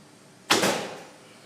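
An arrow loosed from an Alibow Tang Loulan bow at full draw of 31 inches, a single sharp thwack with a short, fading rattle afterward, near and distinct against quiet surroundings.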